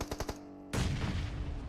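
Gunfire bursts in PUBG Mobile: a few quick rapid shots, then a sudden heavy blast with a lingering rumbling roar, fairly distant and moderately loud, with no talking.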